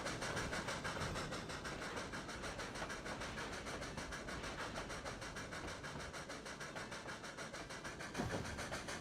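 An N-scale model train runs steadily along the track of a coal-branch layout, giving a continuous rhythmic clickety-clack with a faint engine hum that stays level throughout, with no voices.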